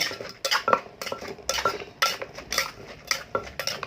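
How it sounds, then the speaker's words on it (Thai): Pickled bamboo shoots pounded in a mortar with a pestle for bamboo shoot soup, giving a close series of irregular knocking thuds with clinks, roughly two or three strikes per second, with no voices. "ตำค่ะตำลงไป ตำให้ให้เข้ากันนะคะให้เนื้อมันละเอียดนะคะ"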